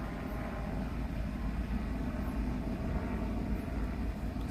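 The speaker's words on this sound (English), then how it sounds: "the chopper's over there now" A police helicopter flies over a city street at night, giving a steady, continuous engine drone that stays at an even level and seems moderately distant, with no voices.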